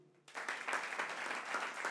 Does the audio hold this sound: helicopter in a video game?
no